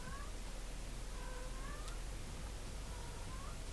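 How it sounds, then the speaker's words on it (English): Faint, distant cat meows, a few thin drawn-out cries spaced apart over a steady background hiss. "I can hear Nala meowing in the distance because she has her ball."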